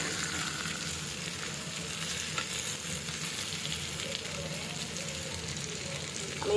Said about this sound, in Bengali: একটু বাদামি বাদামি কালার করে ভাজতে হবে।